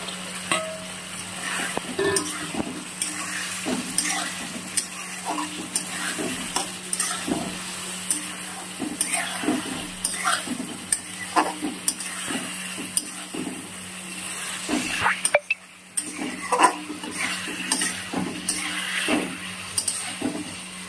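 Pointed gourd pieces stirred and fried in a spice paste in a pan, with a steady close sizzle and repeated scraping stir strokes throughout, no talking.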